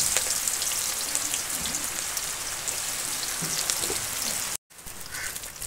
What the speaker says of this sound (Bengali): মাছ ভাজার তেলে পেঁয়াজ ভেজে নিচ্ছি।